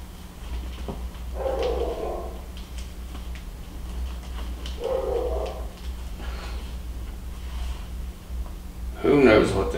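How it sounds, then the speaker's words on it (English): Dogs bark and whimper indoors, apparently from another room, in three muffled bursts spread across the stretch over a steady low hum, with a louder, sharper yelp near the end. "I gotta figure out what the heck's wrong with them dogs in there"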